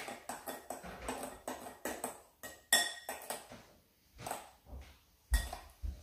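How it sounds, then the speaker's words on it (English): Homemade body wash made from grated bar soap and ten drops of essential oil, stirred in a container, giving repeated clinking, scraping strokes of a utensil against the vessel in an irregular rhythm, close and moderately loud. "Stir it together."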